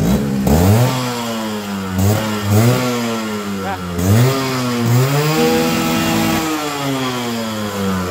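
A Yamaha RX 100 two-stroke motorcycle engine idles and is revved repeatedly, its rasping note climbing and dropping in several quick throttle blips, with people talking over it.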